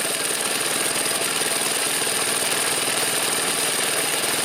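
A Predator small engine on an old go-kart idles steadily while warming up after the choke is switched off, a loud, continuous, even chugging running unbroken throughout.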